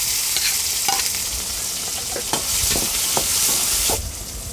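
Onion and tomato frying together in a pan for a shrimp thokku, a loud, dense, continuous sizzle close up, with occasional spatula knocks and scrapes cutting through.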